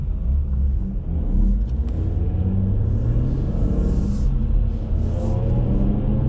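BMW 440i on the Nurburgring GP track, with a loud continuous engine and road rumble inside the car and other cars swelling and fading as they pass close by.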